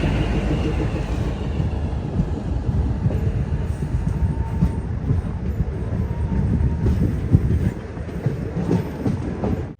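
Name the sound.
train arriving at Avantipura station in Kashmir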